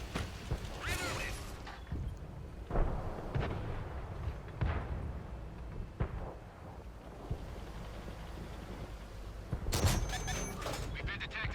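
Tank cannon shells firing in a tank video game: several deep booming blasts spread through a windy, rumbling background, with a sharper, louder burst near the end and people talking throughout.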